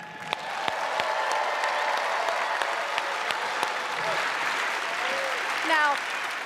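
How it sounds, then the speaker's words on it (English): A television studio audience at a magic competition applauds steadily to welcome a performer back to the stage, a dense even wash of clapping with some crowd noise and a brief whistle near the end. "there is someone else who deserves all your applause. So with that, please help me welcome back to the stage, Naomi."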